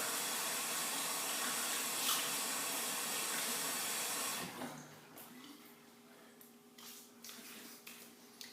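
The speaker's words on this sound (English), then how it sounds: "I rinse with hot water and then a final rinse with cold water." Tap water runs steadily in a sink as a face is rinsed after a shave with a Gem 1912 single edge razor, a hissing stream that cuts off halfway, leaving light drips and handling sounds.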